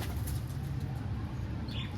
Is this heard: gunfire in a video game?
no